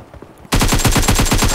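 Sustained full-auto bursts of AKM rifle fire in a video game, loud and close, a rapid even rhythm of shots starting abruptly after a brief quiet lead-in.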